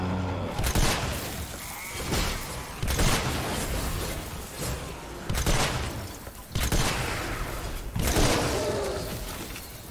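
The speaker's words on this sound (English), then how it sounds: "Oh my, it's an auto shotgun." An auto shotgun fires in the video game Fortnite: Save the World, loud blasts in rapid clusters every second or two, each with a sharp crack and a rumbling tail, heard without talk.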